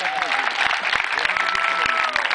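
Steady, dense applause from a crowd at a charity football match between Brazilian stars and an Irpin team, continuous clapping throughout with a raised voice briefly heard over it.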